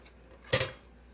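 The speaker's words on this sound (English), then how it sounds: "I'm gonna be scraping the cup to get this last one" A short scrape of a tool against a cup of mixed resin ink, a single close, quick scratch over faint room noise.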